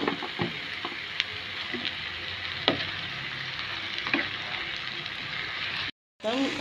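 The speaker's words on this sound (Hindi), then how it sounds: "कॅप्सिकम लांब कातोलो न्हू ते घाता आनी तेय मातशें फ्राय कोता" Sliced capsicum frying in a pan for a Goan capsicum bhaji, a steady moderate sizzle with a few utensil clicks and stirs, briefly cutting out near the end.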